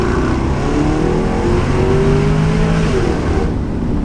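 A Jaguar XKR-S accelerating hard in second gear with full throttle, a loud, deep engine roar climbing steadily in pitch for several seconds before easing off at the end, with no talking.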